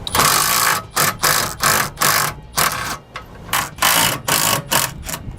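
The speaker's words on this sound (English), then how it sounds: "I'm going to take a 9/16 wrench and come on top of the steps. And I'm going to loosen up each nut." A 9/16 wrench loosens the nuts on a Kwikee electric RV step under a 2012 Forest River George, giving a close series of rapid ratcheting bursts separated by short pauses, with no talking.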